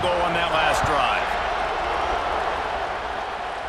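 Loud stadium crowd at a college football night game between Alabama and Georgia, a dense sustained roar filling the whole stretch, with a commentator talking over it.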